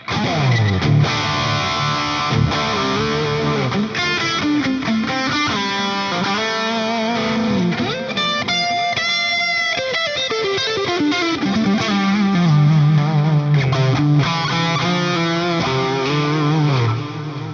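Heavily processed electric guitar through a 100-watt head and Two Notes Reload II load box, playing chords and runs with thick stereo modulation and delay effects, loud and continuous, no talking.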